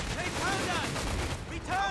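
Battle din from the real-time strategy game Company of Heroes 3: dense rattling gunfire and booming explosions, including mortar fire, roll on continuously and loudly throughout.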